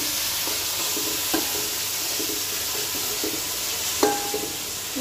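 Chopped onion, mint and coriander frying in a pan for paneer biryani give off a continuous loud sizzle, with a few sharp scraping clinks as a spoon stirs them.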